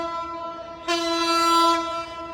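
A Madhumati Express passenger train sounds its horn while passing, a loud sustained tonal blast that swells in the middle and then eases, with the low rumble of the rail cars running underneath.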